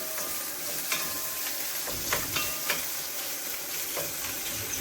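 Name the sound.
meat being stirred while frying in a pan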